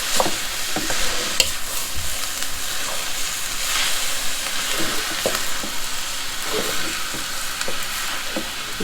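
Pre-cooked sausage meats and vegetables for chow fun noodles sizzle steadily in a hot pan, with a loud continuous hiss broken by occasional stirring scrapes and clinks, and no talk.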